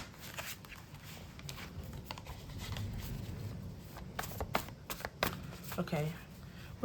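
Tarot cards being shuffled in a steady riffling patter, with some louder snaps toward the end; a voice murmurs faintly underneath.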